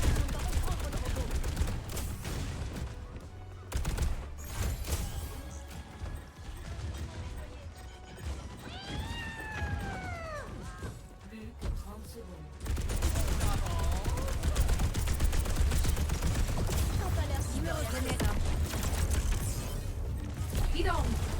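Sustained gunfire and weapon effects from an Overwatch match, with bursts and impacts continuing throughout, louder in the second half, while players talk over the action.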